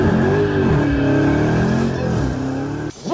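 A car engine in 700 horsepower mode revs loudly and close, a rising and falling harmonic roar that holds steady before dropping off sharply near the end.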